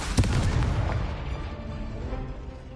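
A fiery Confringo spell blast from Hogwarts Legacy bursts out with a sharp boom near the start, followed by a rumbling explosive wash that slowly fades, with no talk over it.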